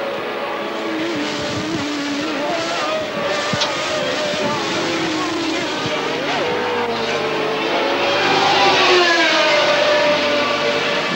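Formula 1 race cars scream around the circuit at the 1981 Austrian Grand Prix, with loud high-pitched engine whine rising and falling as cars pass, under continuous commentary.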